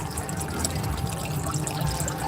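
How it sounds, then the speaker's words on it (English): Running water sound coming from a light pole at an outdoor festival opening night, a steady, fairly loud rushing trickle that carries on without a break. "now it's making the sound of running water."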